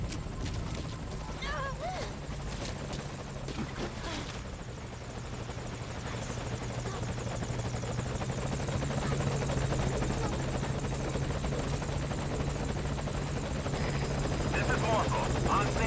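A helicopter arrives in the video game Metal Gear Solid V: Ground Zeroes. Its steady rotor drone fills the scene and grows slightly louder and closer over time, with faint game sounds in the background.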